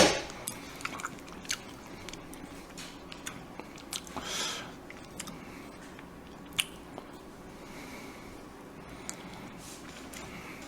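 Rainbow cube cheese is chewed close to the mic, with quiet, soft, squishy mouth sounds and a few sharper bites scattered over a low, steady background.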